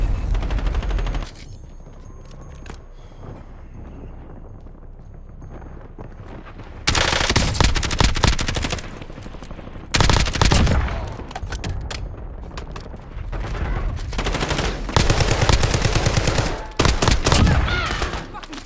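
Heavy automatic gunfire in Call of Duty Black Ops 6 Warzone comes in long loud bursts and sustained volleys, separated by quieter stretches of ambient battlefield noise.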